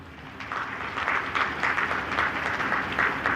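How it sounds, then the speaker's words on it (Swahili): Steady applause from a large audience at a police officers' and assistant inspectors' graduation ceremony, a dense continuous patter of many hands holding an even level for several seconds. "Tunaomba makofi mengi sana hapo."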